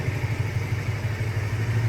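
A 2002 Honda VT 125 Shadow motorcycle idles steadily with its exhaust fitted with a silencing baffle, giving a muffled, even low rumble close by, with no talk.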